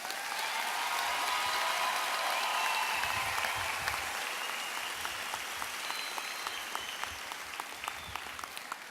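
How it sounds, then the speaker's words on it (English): Graduates and their audience at the 2017 El Centro College commencement give a long round of applause, a loud, full crowd of clapping that gradually thins and softens toward the end, with no speech over it. "Give yourselves a solid round of applause."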